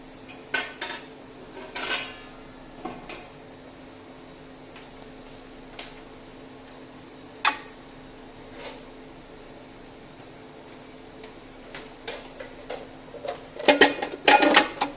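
Blood bank centrifuge buckets handled in a lab, heard as scattered metallic clinks and knocks, sparse at first and then a denser cluster of clatter near the end, close by with no talking.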